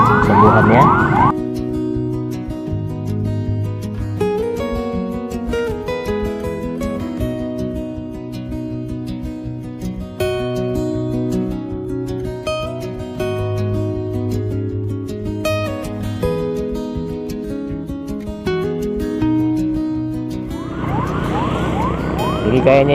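Ambulance siren wailing loudly as the vehicle passes along John Ario Katili Road under reconstruction, a long continuous warbling tone with traffic noise underneath.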